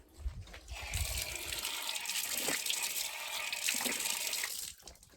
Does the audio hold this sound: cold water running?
yes